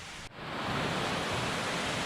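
A small creek on a forested Virginia mountain trail rushes strongly after heavy rain, a steady broadband wash of flowing water, close and continuous with no voices.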